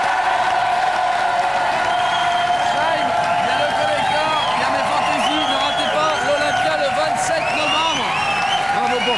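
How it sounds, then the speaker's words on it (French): A television studio audience applauds and cheers loudly and steadily throughout, with voices mixed into the ovation. "Je vous demande d'applaudir Shine si vous voulez qu'il est là avec nous ce soir."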